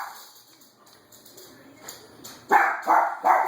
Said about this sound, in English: What's the dog barking at?